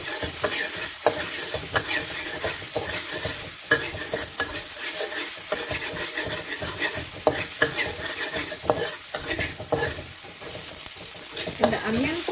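Pork, garlic and onion fry in cooking oil, a loud steady sizzle broken by repeated scraping stirs of a utensil against the pan, close up.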